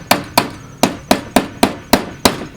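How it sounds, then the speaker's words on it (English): A hammer bends a lantern crown's metal over a wood block: eight sharp, evenly spaced metallic strikes ring out close and loud in a steady rhythm, each with a brief ringing tail. "kind of hammer it over the best you can in there"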